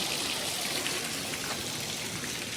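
Steady running water pours and splashes continuously outdoors near an Apple store at a mall, a dense even rush with no talk over it.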